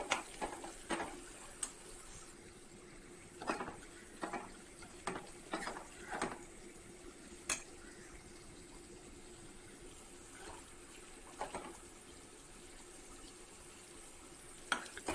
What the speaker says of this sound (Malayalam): മിക്സ് ചെയ്ത് ഇളക്കി കൊടുക്കാം.